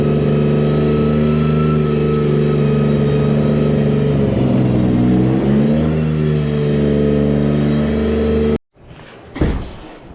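Dump truck engine running loud and close with a steady high whine, revving up and easing back down mid-way, then cutting off sharply near the end, followed by a couple of knocks.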